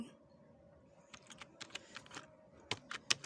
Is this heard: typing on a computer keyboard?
yes